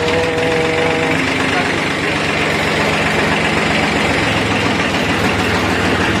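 A Kubota L2000 tractor engine running just after starting, a loud, continuous, rough diesel rumble close by with a steady throbbing beat.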